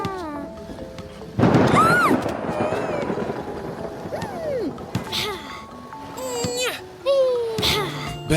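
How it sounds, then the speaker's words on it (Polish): A loud crash of thunder from a thunderstorm in a children's cartoon breaks out, followed by rumbling and crackling while children's voices and squeaky cartoonish sounds carry on over it. "Mary, Chili, nie boicie się burzy?"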